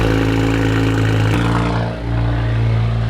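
A BMW 335i fitted with a new VRSF race catback exhaust rumbles loudly and steadily up close, a deep, dense drone with a brief dip midway before settling back into a strong idle.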